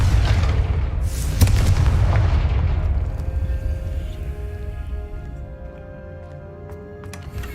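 A Confringo blasting spell goes off in the Hogwarts Legacy video game: a loud, booming explosion right at the start with a sharp crack, then a rumbling tail that slowly fades under faint game ambience.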